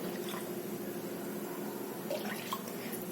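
Water pouring steadily into a pan, a soft continuous splashing rush with faint gurgles near the end.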